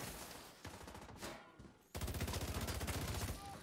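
Pistol fire in the shooter game The Division 2 comes as a few rapid bursts of sharp shots, separated by short gaps, then a denser run of quick repeated reports.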